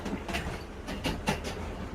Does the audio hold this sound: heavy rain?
no